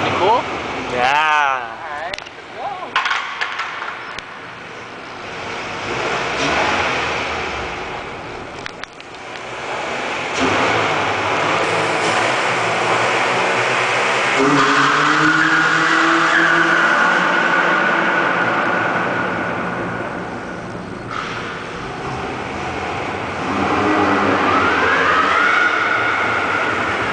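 A car revs and peels out, its engine roaring up with a rising squealing tone from the tires, while people talk and shout nearby over the noisy run.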